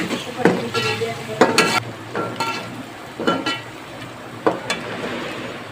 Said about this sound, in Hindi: और इसमें अदरक लहसुन का पेस्ट ऐड कर देंगे और इसको लहसुन और इनको मिक्स करना अच्छे से